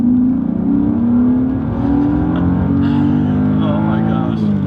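A car with an M50 intake manifold swap and tune pulls hard in second gear from about 3,000 rpm, its engine note rising steadily and loud close up, with someone speaking over it.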